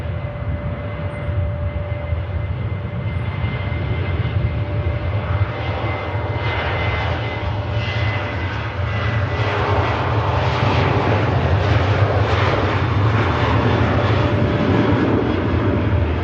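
A Ryanair airliner taxis past at Manchester Airport, its jet engines making a loud, steady roar close by that holds for the whole stretch and swells slightly as the aircraft passes.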